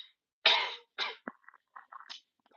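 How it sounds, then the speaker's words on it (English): A person coughing and choking on saliva: two harsh, forceful coughs followed by several shorter sputtering, gagging sounds, close and clear in an otherwise quiet room. "Coughing and choking on my own saliva."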